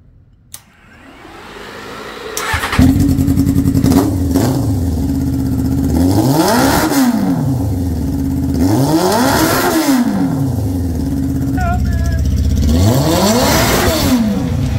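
A Honda ATC600r three-wheeler engine, freshly rejetted carburetors, starts and revs repeatedly, rising and falling in about four long sweeping pulls between idle stretches, loud and close with no talking.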